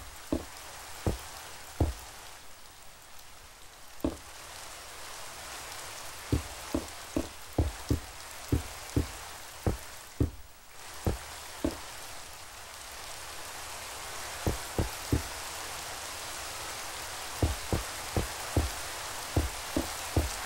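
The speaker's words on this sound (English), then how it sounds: "I wish it would stop raining." Rain falls outside in a steady hiss, punctuated by sharp, irregular drops or taps landing close by, with no one talking.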